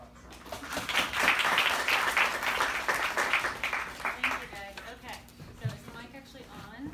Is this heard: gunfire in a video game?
no